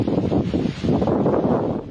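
Strong typhoon wind sweeping across Batanes, a rough, gusting roar buffeting the microphone in close, unbroken waves.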